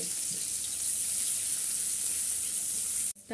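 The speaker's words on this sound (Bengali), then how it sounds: "পেঁয়াজটা হালকা একটু ভেজে নিচ্ছি।" Chopped onion fries in oil in a frying pan, giving a steady, even sizzling hiss throughout that cuts off abruptly at the end.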